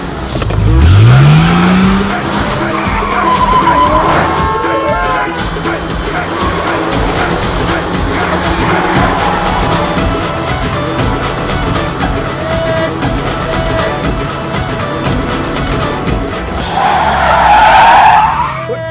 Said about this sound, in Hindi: ओए इंदु जी, आप गाड़ी बड़ी अच्छी चलाती है।